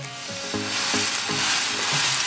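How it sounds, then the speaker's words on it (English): A loud, steady sizzle of a New York strip steak frying in a hot oiled pan, with a few soft scraping stirs repeating through the crackle. "I always want to have that sizzle."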